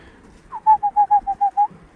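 Newly acquired pigeons in a loft at Halinów give a rhythmic run of about eight soft, evenly spaced coos, close and clear against a quiet background.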